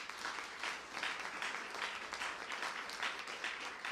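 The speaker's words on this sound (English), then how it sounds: "Can we give our governor a round of applause," An audience applauds for a governor at an Illinois event launching an IT technology trainee program. The clapping is dense and steady, fairly quiet and slightly distant, and it carries on throughout with no voices over it.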